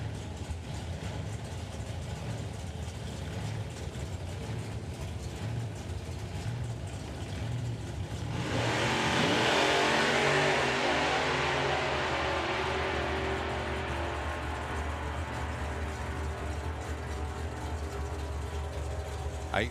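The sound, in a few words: Toyota Supra drag racing car engine revving at the line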